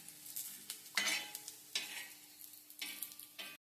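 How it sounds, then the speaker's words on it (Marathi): Banana slices sizzling steadily on a hot tava, broken by a few distinct stirring scrapes and spatula clatters, close and clear with no talking. "छान अजून भाजू दे मस्तपैकी खरपूस होईपर्यंत."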